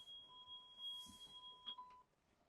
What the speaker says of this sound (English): what you were hearing there was a warning signal that the ignition was on